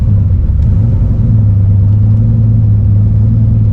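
The War Admiral street car's engine rumbles steadily and loudly while backing up, a deep, constant low drone up close with no talking.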